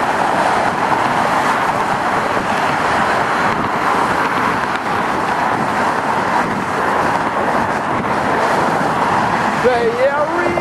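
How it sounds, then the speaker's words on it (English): Steady roadway traffic with cars passing near a scenic overlook by the Golden Gate Bridge at sunset, a continuous wind-buffeted rush of tires and engines with occasional voices. "All these cars passing by."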